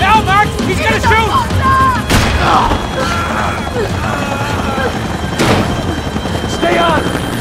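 A helicopter drones steadily in Max Payne 3 while sharp gunshots crack out at intervals, loud and close, with a voice speaking over the continuous rotor noise.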